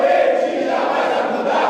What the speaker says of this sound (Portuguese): a torcida lotou o saguão do aeroporto e cantou muito